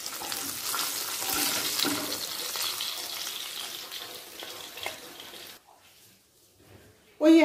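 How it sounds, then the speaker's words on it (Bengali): Pabda fish frying in oil in a pan, a steady broad sizzle running for several seconds before dropping away into near quiet, then a short loud clatter at the end. "মাছের 2 পিঠই ভাজা হয়ে গেছে।"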